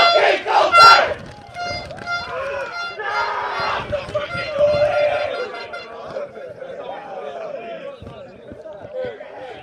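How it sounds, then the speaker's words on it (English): Spectators at a 2022 school rugby match against Wellington College shouting, cheering and chattering close by, a loud, dense mix of voices with sharp yells early on, easing into steady crowd chatter. "we're right in the mix of the crowd. So we're getting a lot of noise coming through"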